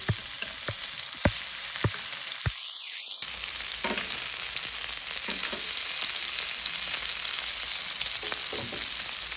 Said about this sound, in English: we just want to put a nice little sear in them